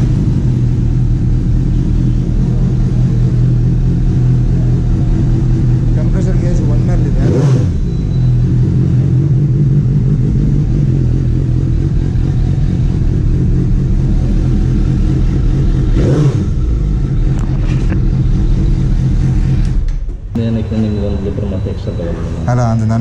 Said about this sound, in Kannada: ಸೊ ಇವಾಗ ಗಾಡಿ ಸ್ಟಾರ್ಟ್ ಮಾಡ್ತಾರೆ.